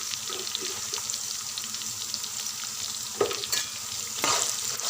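Fried onions and green chillies with turmeric are stirred in a hot pan for poha upma, making a soft steady sizzle with scraping spoon strokes and a couple of louder clinks.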